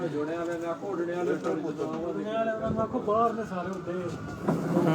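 Pigeons of a flying breed, kept in pairs, coo in low, repeated bursts through about five seconds, closely mixed with steady nearby talking.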